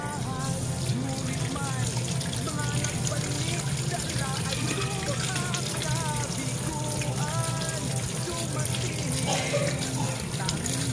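Cooked food rinsed under a running kitchen tap: a loud, continuous gush and splash of water, with a voice talking over it.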